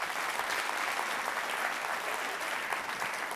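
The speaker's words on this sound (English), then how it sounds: "go ahead and clap your hands for me, okay?" Keynote audience clapping hands at an insurance conference, a steady continuous wash of applause from a large crowd, even in level and fairly distant, with no talk over it.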